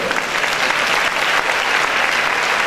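A church congregation claps in steady, dense applause through the whole moment, loud and close, with no clear voice over it.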